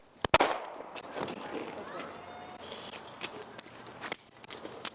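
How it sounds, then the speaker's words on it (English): A few sharp gunshots crack close by near the start of a police shootout with a drunk suspect in Redwood Valley, California, followed by shouting voices and a noisy, rustling scene. "Gun! Shots fired! Shots fired!"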